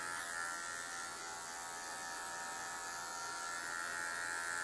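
Electric hair clipper buzzing steadily and close up throughout, cutting a skin fade with a number 1 guard at a barbershop, with no talk.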